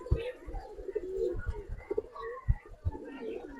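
Giribaz pigeons coo close by in soft, throaty, rolling calls that overlap unevenly. Scattered thumps and faint shuffling run beneath the calls.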